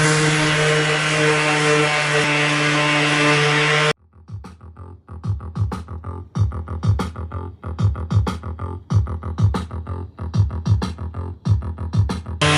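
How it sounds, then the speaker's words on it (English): Damascus steel knife blades are hand sanded in a forging workshop: after about four seconds of a steady humming tone, rhythmic back-and-forth abrasive strokes repeat at a regular pace, close and moderately loud. "Now I'm going to hand sand these."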